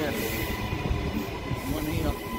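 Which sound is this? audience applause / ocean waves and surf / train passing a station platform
train passing a station platform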